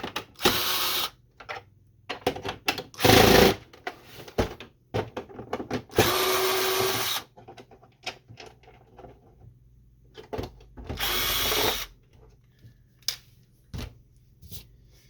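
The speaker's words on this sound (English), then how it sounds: "There's two screws right here. This screw and this one right here that we need to remove." Screws coming out of a Canon MG-series inkjet printer, with short bursts of a driver whirring separated by quiet gaps and small clicks and handling noises close by.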